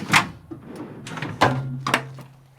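A slide-out table on a Nissan Navara D23 touring build pushed back into its drawer, a few short scraping slides and thumps, the last one a firm close with a brief rattle.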